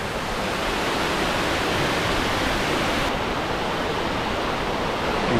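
A waterfall in a canyon with cliffs on both sides in Gifford Pinchot National Forest roars as a loud, continuous, dense rush of falling water, filling the whole clip with no voices.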